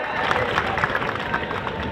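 A crowd at a Maharashtra Kesari wrestling tournament claps and cheers in a dense, continuous roar of applause, distant and steady for a couple of seconds.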